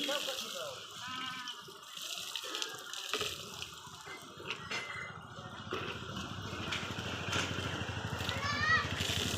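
Water runs steadily from a tap into a basin for several seconds, a continuous splashing hiss that grows slightly louder toward the end, with a voice talking over it at the start.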